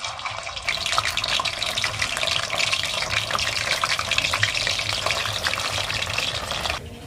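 Homemade fish balls fry in hot oil with a steady, loud bubbling sizzle that starts abruptly after a brief quiet moment and continues evenly, close by, with no talking.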